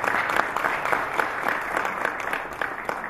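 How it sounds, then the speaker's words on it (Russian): Guests at a 70th anniversary evening party in Dushanbe break into warm applause, a continuous, fairly close patter of many hands lasting a few seconds with no voices over it. "Ваши аплодисменты его супруге, очаровательной женщине."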